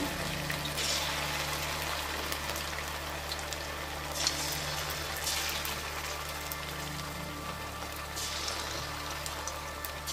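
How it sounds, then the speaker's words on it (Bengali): Marinated chicken pieces fry in hot oil, giving a steady, even sizzling hiss that runs throughout without pause. "ম্যারিনেট করা মাংসগুলো একে একে ভেজে নিচ্ছি।"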